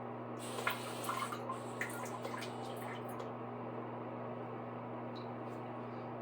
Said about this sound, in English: And I mean, it's still dripping.